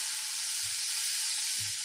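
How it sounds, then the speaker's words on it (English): Food sizzling on a barbecue grill, a steady bright hiss running the whole time with a couple of soft low thumps underneath, close and fairly loud, with no talking. "It's a long sizzle."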